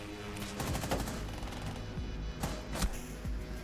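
Gunfire in a Rainbow Six Siege esports match, an M4 firing in quick bursts with sharp cracks and echoing reports at a moderate distance, alone without talk.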